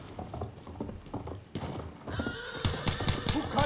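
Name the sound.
horse neighing and galloping in Battlefield 1 video game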